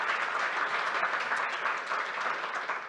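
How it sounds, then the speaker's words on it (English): A conference audience claps continuously at a startup demo day, a dense close wash of applause holding steady for a few seconds with no talk. "Round of applause for Sam"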